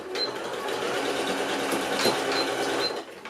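A sewing machine stitches together fabric scraps in a steady, rapid mechanical whir with light rhythmic clicking, running continuously and close, then slowing at the end.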